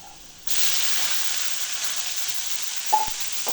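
Sliced onions dropped into hot oil with garlic and dried red chillies, a sudden loud sizzle that holds steady, with a brief clatter of a spoon near the end.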